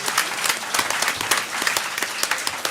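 Steady audience applause fills a conference hall, dense and continuous clapping from many hands with a few sharper claps standing out, no voices over it.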